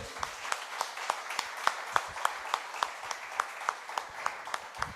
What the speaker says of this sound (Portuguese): Você pode aplaudir ao nosso Senhor, querido?